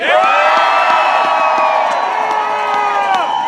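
Large crowd at an outdoor labour union rally cheering and whooping, a dense sustained roar of voices held loud and close for the whole stretch.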